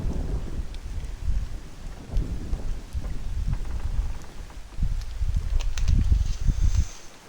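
Video-game rain falls steadily in a desert Mexico setting, with heavy low thunder rumbling and swelling underneath throughout. No one speaks.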